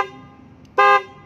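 A loud aftermarket car horn sounds in one steady, bright blast of about a quarter second, close and clear, during a horn test after a quieter faint tone.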